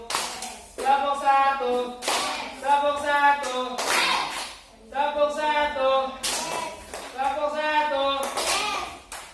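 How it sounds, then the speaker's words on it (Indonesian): A classroom of fourth-grade children claps in unison in short rhythmic bursts, several sharp rounds separated by brief pauses, with kids' voices calling out between them. "Tepuk satu."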